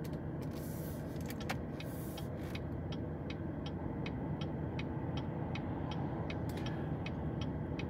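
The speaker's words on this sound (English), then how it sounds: "Let these cars go by." Cars passing along A1A near Lake Worth Beach and the Boynton Inlet, a faint, steady road hum from traffic going by at a distance, with some brief higher clicks and whooshes early on.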